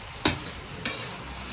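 Mushrooms being stir-fried in a pan, with two sharp stirring scrapes over a soft continuous sizzle.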